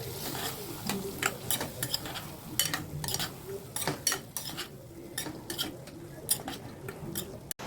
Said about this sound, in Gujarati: અને શાક મિક્સ કરી નાખશું બધું.